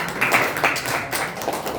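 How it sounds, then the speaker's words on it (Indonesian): Light, scattered clapping from a small group in a classroom, somewhat thin and uneven, with a faint murmur of room noise. "tepuk tangan untuk kelompoknya Azra"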